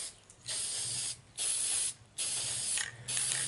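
A full can of spray paint hisses in four bursts, each about half a second to a second long, with short pauses between. The sound is close and steady.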